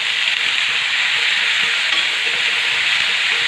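Chillies and pumpkin pieces sautéing in hot oil, a loud, close, continuous sizzle with light stirring beneath it and no pause; no one speaks.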